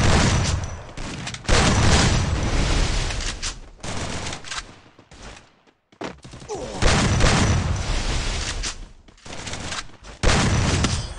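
Gunfire in a shooter video game: loud, close bursts of rapid shots and heavy volleys come in dense clusters, break off briefly near the middle, then start again with the same intensity.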